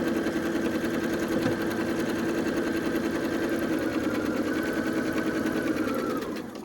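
A sewing machine stitches quilt pieces for a flowering prism quilt in a steady, fast mechanical hum, running continuously at close range before slowing at the end.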